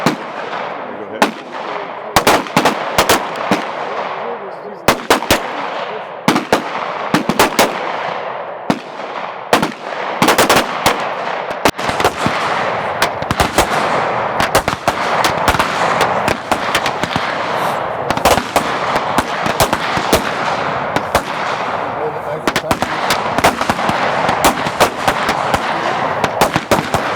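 Pistol shots ring out in rapid strings at an outdoor range, loud sharp cracks in uneven clusters with short pauses, continuing through the whole stretch.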